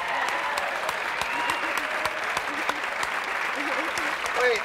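A studio audience at a talk show claps steadily in a dense wash of applause, while voices talk over it and a laugh rises near the end.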